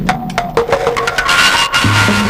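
A Waldorf Blofeld synthesizer patch sounds through a bandpass filter, sustained tones with shifting resonant pitches and a brief cut near the end, with no voices.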